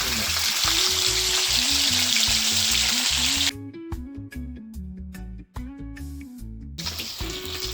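Three pieces of Jamaican salmon fry in a pan, giving a loud, dense sizzle that briefly drops away midway and then returns, with music playing throughout.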